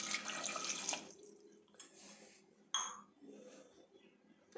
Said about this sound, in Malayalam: അപ്പോൾ ഒരു ഗ്ലാസ് കൂടി വെള്ളം നമുക്ക് ഒഴിച്ചു കൊടുക്കാം.